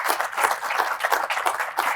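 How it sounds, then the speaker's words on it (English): A small audience claps steadily at the close of a Porsche 911 engine talk, a dense, even round of applause with no voices over it. "So please give Barry a round of applause."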